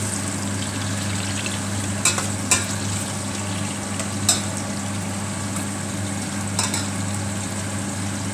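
Onions fry in a pot with a loud, steady sizzle and a few sharp clicks of stirring.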